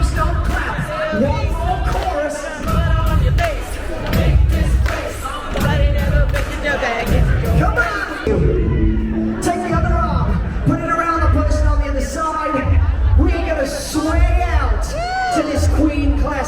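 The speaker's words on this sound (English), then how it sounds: "Stomp, stomp, clap. Stomp, stomp, clap." A crowd at a deck party aboard the Carnival Mardi Gras cruise ship stomps and claps along to a song, with loud regular thumps over the music, voices and cheering.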